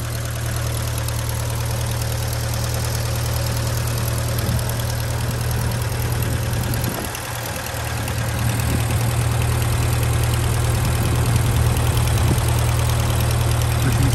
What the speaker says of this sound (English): There's this Hurricane engine, burbling away nicely,